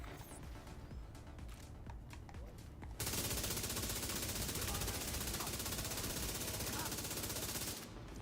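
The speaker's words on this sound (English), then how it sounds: "It's like an LMG, but really accurate." Sustained light machine gun fire in The Division 2, a dense, loud burst of continuous shooting running from about three seconds to nearly the end, preceded by quieter background game ambience.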